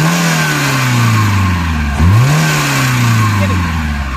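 A Maruti Suzuki Eeco van engine idles then revs up sharply mid-clip, the pitch rising and falling back to a steady hum; loud and close.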